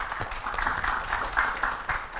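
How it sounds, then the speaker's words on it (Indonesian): Applause at a university student orientation event, a fairly faint, even wash of many hands clapping, heard steadily for a couple of seconds. "tepuk tangan ya."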